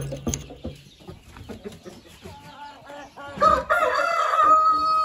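Several Balão GSB roosters crow, one after another and overlapping, with clucking hens and scattered farmyard noises, fairly close and loud toward the end.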